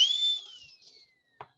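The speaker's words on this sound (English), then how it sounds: "Love that whistle." A sharp, high whistle is blown once, long and sliding slightly downward before tapering away, followed by a faint short click.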